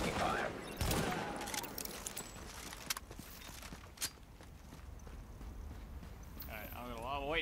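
Gunfire crackles around supplies in the shooter game The Division, bursts of shots and sharp cracks under a game voice speaking, with a warbling electronic tone near the end.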